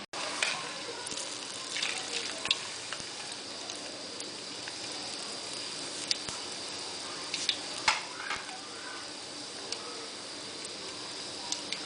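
Urad dal vadas (minapa garelu) fry in hot oil with a steady, moderately loud sizzle and scattered sharp crackles and pops, no voices.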